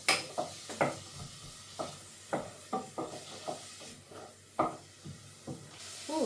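Onions in a pan for stovies or corned beef hash, stirred with a series of scraping, rubbing strokes over a faint sizzle, close up with no talking.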